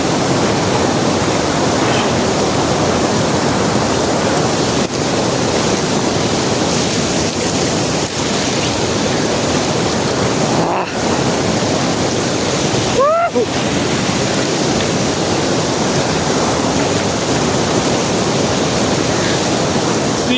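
A forest stream where people swim rushes with a loud, steady broadband roar, continuous for the whole stretch with a couple of brief dips, and no voices over it.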